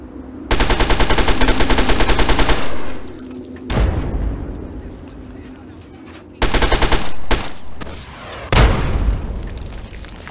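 Submachine gun fire in the video game Fallout 3 comes in loud rapid bursts, the first about two seconds long, followed by heavy booming impacts and further short volleys close up.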